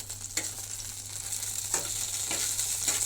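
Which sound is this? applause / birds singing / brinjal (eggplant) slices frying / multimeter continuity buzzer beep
brinjal (eggplant) slices frying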